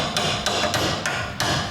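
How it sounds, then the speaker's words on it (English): Sharp metallic strikes of a hammer driving a chisel into seam welds on a rusty BMW E30 body, five or so evenly spaced blows, close and loud. "I'm just gonna check with the chisel and hammer if I've missed anything"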